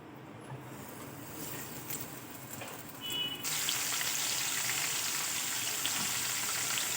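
Semolina-coated prawns dropped into hot oil, a steady close sizzle and crackle that jumps louder partway through and then holds as a bright, continuous fry.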